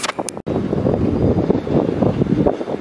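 Strong wind from Storm Ciaran roars across a microphone during a lure-fishing outing at Charleroi, a loud, gusting, continuous buffeting broken by one brief dropout near the start.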